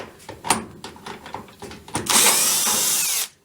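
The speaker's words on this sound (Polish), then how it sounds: "Następnie musimy tutaj odkręcić boki w tych miejscach." Power screwdriver unscrewing a side panel of an Electrolux dishwasher, a few clicks and handling knocks followed by a loud whirring burst of about a second that stops abruptly, close up.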